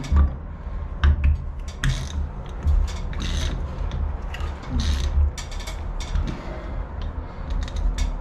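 A hand tool ratchets and turns to tighten a corroded fire sprinkler head, giving irregular bursts of clicking, creaking metal and gear-like grinding over several seconds, close and loud with no talk.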